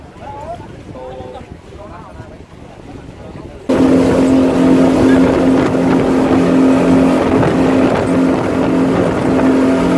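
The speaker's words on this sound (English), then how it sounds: "the boat is coming closer" A passenger boat pulls in toward an island dock at Koh Rong in the dark, its engine starting abruptly partway through as a loud, steady drone with a strong low hum that continues to the end, after quieter voices and ambient noise.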